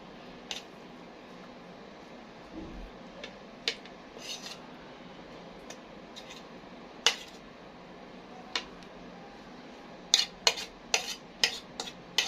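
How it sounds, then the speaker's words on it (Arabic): Minced meat is stirred in a pan with a spoon, giving scattered scrapes and clinks over a faint, steady sizzle, with a cluster of quick scraping strokes toward the end. "هنزل بقى باللحمه المفرومه بالراحه كده بسم الله"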